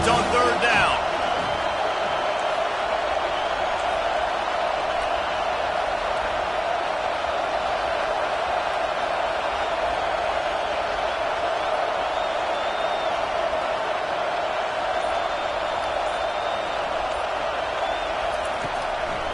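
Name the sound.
crowd noise rising in a football video game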